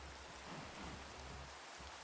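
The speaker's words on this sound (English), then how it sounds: "Ooh, rain." Steady Minecraft rain pours as an even, hissing wash of droplets, constant and fairly soft, with no voices over it.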